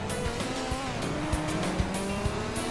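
Race cars in a racing video game, with engines droning steadily up close and a sustained high whine, plus short tire-squeal and scrape accents as one car pulls alongside to overtake.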